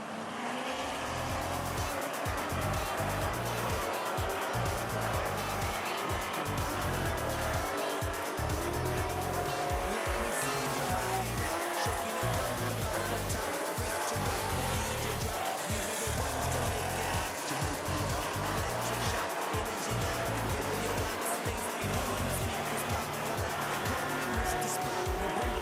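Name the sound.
race cars on a dirt speedway track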